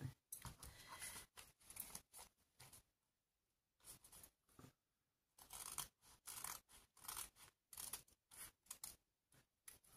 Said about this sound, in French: On va le couper de la même taille.